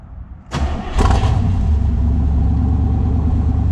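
A 1966 Chevrolet Corvette convertible with a 427 V8 cranks briefly and fires up. It settles into a loud, steady, rumbling idle close to the microphone.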